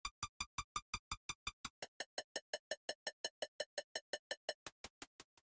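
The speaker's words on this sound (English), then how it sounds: "But if you turn them up, you'll get a robotic sound like this." Synthesized hi-hat in VCV Rack with its comb filter turned up, giving a rapid, evenly spaced train of metallic, robotic-sounding ticks that shift pitch midway and repeat steadily, quiet and alone.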